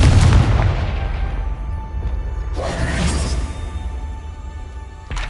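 A Confringo fire spell blast in the Hogwarts Legacy video game: a loud booming burst opens and rumbles away over a few seconds, a second whooshing burst follows midway, and a sharp crack lands near the end, with no voices.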